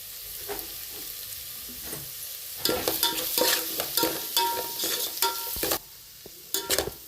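Country chicken curry masala with tomato, salt and turmeric sizzles in a pan as a spoon stirs and scrapes in loud, sharp, uneven strokes, pausing briefly before a few final scrapes.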